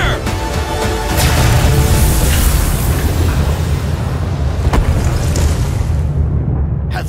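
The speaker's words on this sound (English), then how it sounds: "Preparing to fire main cannon! Powering up!" In the Sand Land video game, a main cannon fires and explodes in a loud sustained roaring blast with rumbling debris and sharp cracks, fading out at the end.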